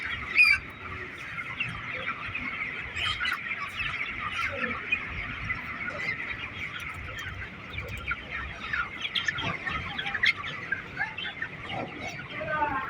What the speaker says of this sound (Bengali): এখানেও মুরগি